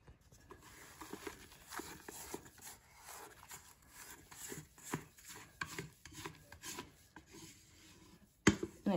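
Spatula scraping and stirring through thick angel food cake batter to fold in a small pocket of flour, a steady run of soft close rubbing and rasping strokes with a brief louder clatter near the end.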